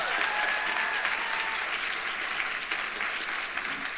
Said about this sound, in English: for the Masters of Nursing Award winners, please, again, a round of applause.